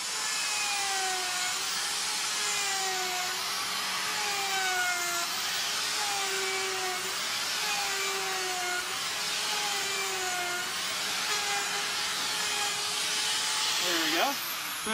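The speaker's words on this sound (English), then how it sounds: "we're going to use Dremels, and they have a nice sharp bit on the end" A Dremel with a sharp bit carves into a block of ice at a live ice-carving session, a steady high-pitched whine with a hissing grind that wavers slightly in pitch throughout, close and loud.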